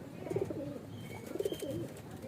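Two distinct low, rolling coos from a nearby Andhra pigeon, separated by a short pause, over a steady outdoor background hiss.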